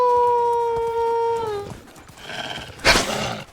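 A wolf in the medieval survival game Medieval Dynasty lets out a long, steady, loud howl, trailing off before a brief rustle and a sharp noise follow.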